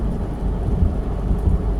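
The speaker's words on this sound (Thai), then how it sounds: "ผมปัดน้ำฝนนิดนึงครับฝนมันตกลงดอก" Heavy rain drums steadily on a car windshield, a dense low patter with muffled rumbling, close and continuous, no voices.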